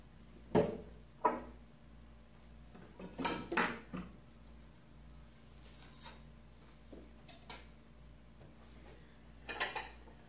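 Real dishes and cutlery on a tablecloth in a tablecloth-pull inertia demonstration, with several separate clattering clinks and rattles at irregular intervals, a cluster of louder crashes in the middle, and quieter clinks trailing off after.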